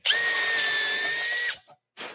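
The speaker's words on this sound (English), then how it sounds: "I just drill the hole at the back of the drawer." Power drill boring a hole through the back of an assembled wooden drawer: a loud, close, steady whine for about a second and a half, then a brief pause and a short second burst.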